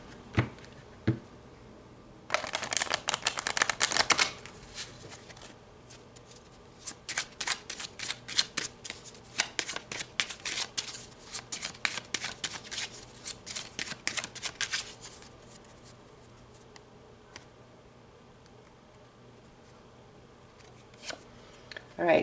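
Tarot cards being shuffled close by in quick riffling bursts with pauses between, a soft papery flutter, and a voice speaking at points.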